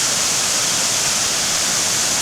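A waterfall at the Douglas Hotel, with white foamy water at its base, roars in a steady, loud, dense rush of noise that carries on unbroken throughout, with no voices.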